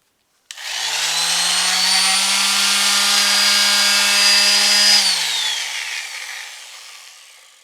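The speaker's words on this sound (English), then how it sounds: "About typical noise level for a sander." A Parkside 3-in-1 sander starts abruptly and runs steadily for several seconds with a loud, constant whining motor hum, then spins down gradually as it is switched off, with no talk.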